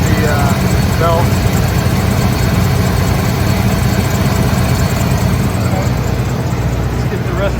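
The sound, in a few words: old Ford Gulf Stream RV engine running, rusty belt noise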